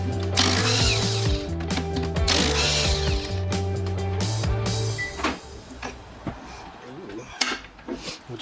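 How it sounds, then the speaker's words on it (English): Ratchet working the bolts off the side bearings of a Toyota E-locker rear differential during a rebuild, rapid clicking pawl bursts in quick repeated runs, close and clear, then fading into scattered metallic knocks and handling sounds. "Remove the 4 bolts holding the side bearings on."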